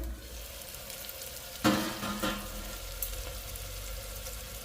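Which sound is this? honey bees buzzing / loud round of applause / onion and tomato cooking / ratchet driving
onion and tomato cooking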